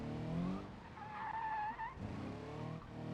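A boxer-engine truck in a driving video game, engine whine rising and falling with squealing, skidding tires, fairly faint and without voices.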